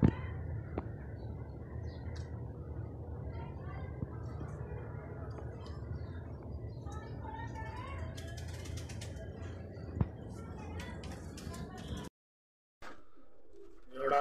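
Several pigeons kept as pairs for sale coo steadily and low throughout, with occasional soft wing flutters and faint chirps against a dense, continuous background.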